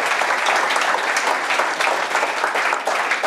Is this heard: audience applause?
yes